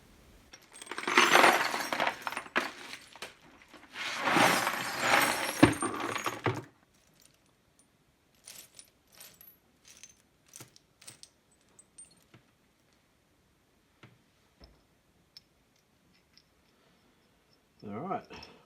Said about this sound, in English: go through that bucket of bolts to try and find a couple of small bolts